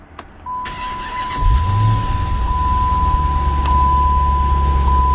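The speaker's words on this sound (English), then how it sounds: "simply hit the button to start the engine" A 2011 Dodge Challenger SRT8 392 fires up with a push-button start: a quick starter whir, then the V8 catches with a loud bark and settles into a deep, steady idle rumble, with a faint electronic tone running throughout.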